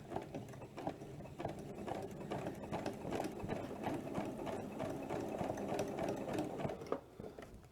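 A sewing machine stitches binding onto a quilt edge, a steady rapid mechanical whir of needle strokes with brief pauses, quiet and close.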